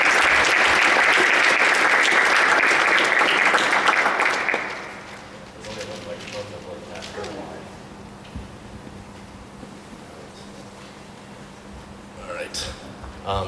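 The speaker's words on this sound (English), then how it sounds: "So you guys can give a round of applause." An audience at a blockchain industry event welcomes panelists with loud, dense clapping that stops abruptly after about four seconds, leaving quiet room noise and a few scattered sounds.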